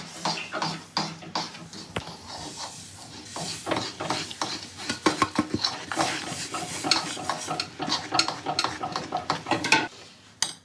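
A spoon stirs a tilgul mixture in a pan, making repeated scraping and knocking strokes over a faint sizzle.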